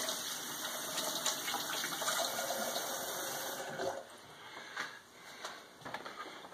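Tap water runs steadily over a glass hydrometer being rinsed clean while making mead, a quiet continuous hiss of flowing water that breaks into uneven splashes toward the end.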